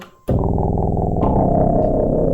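A buzzy FM-modulated synthesizer oscillator tone starts abruptly after a brief pause, then shifts to a harsher, more metallic timbre partway through, sustained and loud.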